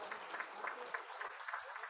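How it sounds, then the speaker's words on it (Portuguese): Faint, distant clapping from an audience at the opening of a development forum in São Paulo, thin and brief with a few stronger beats. "Uma salva de palmas a todos, por favor."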